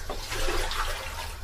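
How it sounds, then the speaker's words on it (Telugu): Water is poured out in a home kitchen near a sink where rice is being cooked: a steady, close splashing rush with no talk over it. "ఇదిగో ఈ నీళ్ళు ఇక్కడ పోస్తాను."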